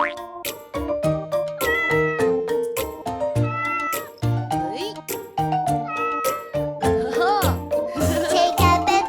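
A children's nursery-rhyme song about a cat at bath time, with a singing voice imitating a cat's meow over and over in a steady rhythm over bright musical backing. The meows are loud and close.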